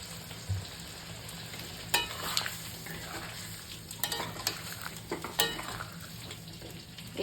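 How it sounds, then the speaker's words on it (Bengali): Hot water poured into a pan of frying cauliflower and potato curry with chilli, tomato, ginger and cumin paste, giving a steady sizzle with a few sharp clinks and stirring knocks. "এবার একটু গরম জল দিয়ে দিচ্ছি।"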